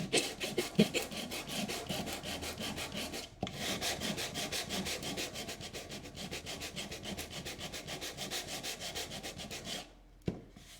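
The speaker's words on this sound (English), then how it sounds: "So that's a really good reason to use a flat sanding block." Steady rhythmic rasping of a flat sanding block on a wooden tissue box cover, fast back-and-forth strokes with a brief pause midway and another near the end.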